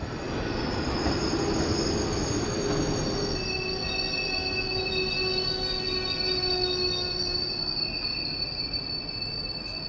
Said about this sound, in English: Hauling our train tonight is this RC6 locomotive built by ASEA.